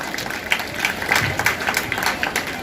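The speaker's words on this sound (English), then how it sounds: "A big round of applause for all energetic trainers." Applause for trainers at a school investiture ceremony: a brief burst of crowd clapping, moderately loud and somewhat distant, with uneven individual claps standing out against a hall's murmur.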